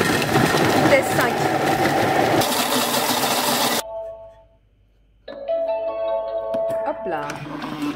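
A Thermomix at speed 5 chops vegetables with a loud, close whirring buzz that cuts out abruptly, followed by a pause and a steady hum with tonal beeps.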